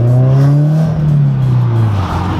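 A car set to race mode accelerates hard, its engine note climbing loud and close, then easing back in a steady rising whine.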